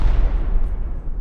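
A rocket blast in the survival game Rust, a dense low rumble rolling on and slowly fading over a second or so, loud and close with no talk over it.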